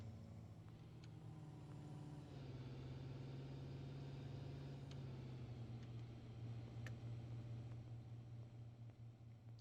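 A car engine in the Wholesaler Simulator video game hums steadily at a mid-range idle, with a slight shift in pitch partway through, heard alone without talk.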